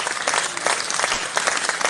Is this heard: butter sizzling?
no